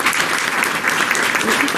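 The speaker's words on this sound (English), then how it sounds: "Let's first give a round of applause to our first place finishers." Audience applauding first place finishers at an FBLA awards ceremony, steady dense clapping throughout from a sizable crowd, close and fairly loud with no pause.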